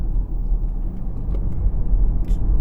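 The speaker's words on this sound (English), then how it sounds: "you just get a whine from the electric motors, which they can't hide." Ford Mustang Mach-E electric SUV in Whisper drive mode, giving only the electric motors' faint whine over a steady low road rumble, heard continuously from inside the cabin with no voices.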